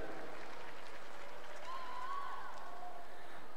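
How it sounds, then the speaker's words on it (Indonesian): Audience at a cultural festival celebrating the Catholic mission's arrival in Aceh and Batak lands applauds its sponsors, a soft, distant patter of clapping from a crowd without any talking. "Kita berikan tepuk tangan kepada sponsor luar biasa kita."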